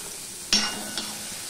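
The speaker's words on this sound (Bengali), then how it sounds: "এবারে দেখো এখানে গাজর আর বিনস নিয়েছি, এগুলো আমি ভেজে নেব। প্রথমে আমি গাজরটা দিয়ে দিলাম।" Carrots dropped into hot oil in a pan, a sudden close burst of hiss that quickly fades, followed by a softer second crackle.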